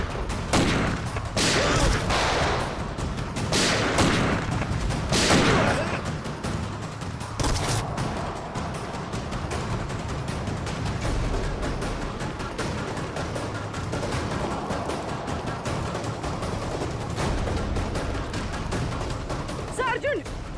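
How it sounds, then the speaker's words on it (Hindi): Gunfire in a tense police drama scene, several sharp bursts early on standing out over constant background noise and music, with people speaking through the clip. "तो गोलियां चल रही हैं।"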